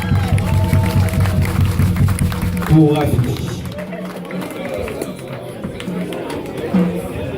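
Crowd applauding the runner-up of a tropical carnival queen contest at a Paris evening event, a sustained wash of clapping and cheering under a busy hall, with an announcer speaking over it.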